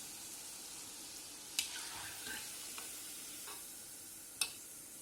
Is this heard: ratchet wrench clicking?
no